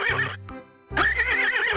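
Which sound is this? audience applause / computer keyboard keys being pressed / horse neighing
horse neighing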